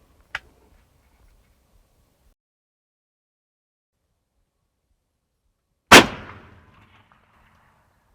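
A single loud, close gunshot aimed at a spike whitetail deer cracks out and rings briefly into the quiet, preceded by a faint click and otherwise near silence.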